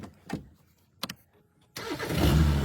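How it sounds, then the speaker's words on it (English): A BMW engine, cranked after years sitting with a dead battery, gives two short starter attempts before catching with a sudden loud burst and settling into a strong, rough idle. "Now, let's start the car."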